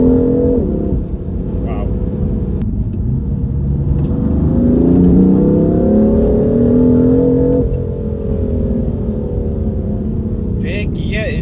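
A stage 1 BMW M3 tuned to 490 bhp accelerates hard, its engine note climbing steadily through the revs over several seconds and staying loud throughout. A voice exclaims briefly over the engine.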